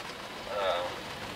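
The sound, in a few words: light rain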